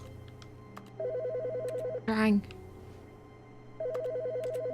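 A desk telephone rings in The Stanley Parable video game, two bursts of a warbling electronic ring separated by a short pause, with brief speech in between over a steady office hum.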